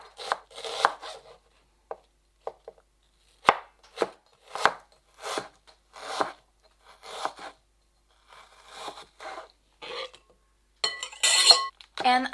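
A knife slices onion very thinly for a fennel salad, giving a string of crisp, close taps on a board in short irregular bursts with brief pauses between them.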